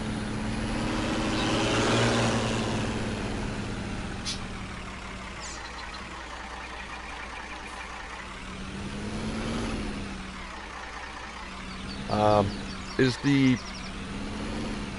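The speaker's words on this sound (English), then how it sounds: "Is the tractor too loud, or like is it drowning out my voice?" Tractor engine in a farming video game, a steady low droning rumble running throughout, with a few sharp hissing bursts near the end and a person talking over it.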